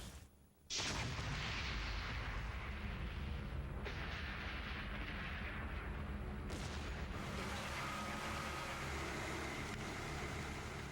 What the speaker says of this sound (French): Sans crier gare, une énorme explosion éventre l'immeuble.